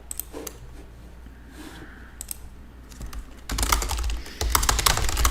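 Fingers type a subtitle on a computer keyboard, a quiet patter of key clicks that turns into a faster, louder run of tapping in the second half.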